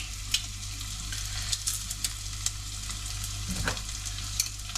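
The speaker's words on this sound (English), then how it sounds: "Just gently sauteing them off" Onions and garlic sauté in a pan, giving a steady close sizzle with occasional scrapes and clicks as they are stirred, and no talk over it.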